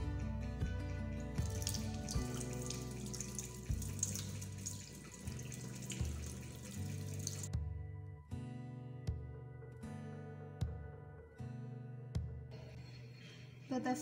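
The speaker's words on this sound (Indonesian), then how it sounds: "cuci kaca preparat dengan air mengalir" Glass microscope slide rinsed under a running lab tap, a strong steady gush of water for several seconds, then stopping into intermittent splashes and drips as the flow is turned on and off.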